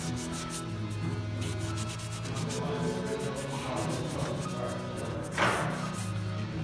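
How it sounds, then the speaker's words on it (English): Microfiber cloth soaked in brake cleaner rubbing red overspray off a repainted brake caliper, a steady close scrubbing with a brief louder swipe near the end, no talking. "Get a microfiber, dirtiest one you have. Hit it with some brake cleaner."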